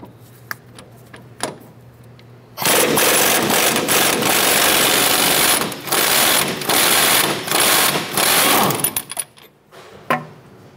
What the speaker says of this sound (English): We're gonna use a 14 millimeter socket to go ahead and remove our upper clevis fork bolt here.